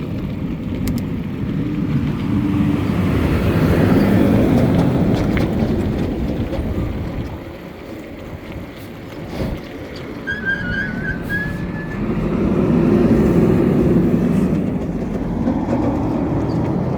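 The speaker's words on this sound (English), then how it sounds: "a trash truck passing us, that's gonna be pretty loud." A garbage truck passes on a road beside riders on a long ride, its loud low engine rumble swelling, easing briefly, then building again over steady traffic noise, with a brief high whine.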